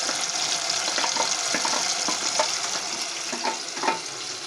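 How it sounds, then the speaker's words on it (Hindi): Garlic dropped into a pan of frying onion-tomato paste, cooked for Punjabi chicken yakhni pulao, sizzles steadily and loudly close up, with scattered stirring clinks and scrapes throughout. "मैं लहसुन अदरक का पेस्ट डालूँ, मैं लहसुन डाल रही हूँ"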